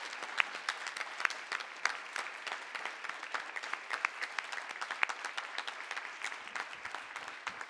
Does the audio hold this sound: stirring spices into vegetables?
no